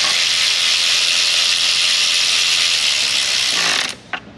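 Ratchet driving hex bolts into a 2008 Lexus RX400h during a timing belt job, a loud, steady, continuous mechanical whir running for about four seconds before stopping abruptly, followed by a brief clink.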